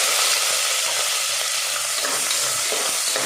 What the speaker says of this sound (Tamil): பூண்டு போட்டு சும்மா ஒரு 2 வதக்கினா போதும்